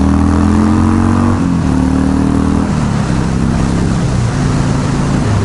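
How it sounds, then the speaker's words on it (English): Loud, steady engine drone of a motorcycle on the move in cold morning weather, its pitch stepping down with gear changes, wind rushing over the mic. "we're just enjoying a motorcycle ride into work here"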